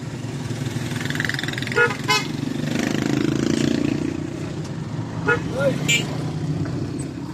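Habal-habal motorcycle taxis arriving on a road, engines running with short horn toots, while people talk nearby.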